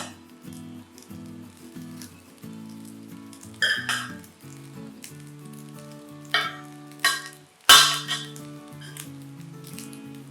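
Grated coconut and cooked rice are stirred in a hot pan, giving soft sizzling with a few sharp scrapes of the spoon against the metal, set under steady background music.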